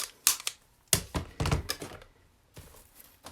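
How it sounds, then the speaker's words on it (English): Long scissors snipping excess card paper on a birthday card, a handful of quiet, sharp crisp cuts in uneven bursts with short gaps between them. "making sure I get that cut with a long scissors."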